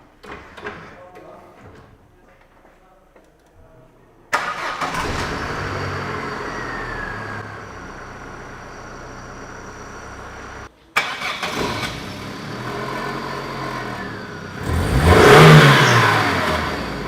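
A 1.4-litre car engine filled with vegetable oil in place of engine oil cranks and catches, then idles and is revved hard twice, loud and close, with short pauses and mechanical clatter between.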